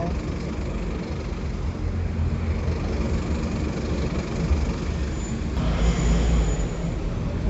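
A bus pulls up on a street in France, its engine a steady, fairly close rumble over continuous traffic noise, with a brief louder swell of passing vehicle sound toward the end.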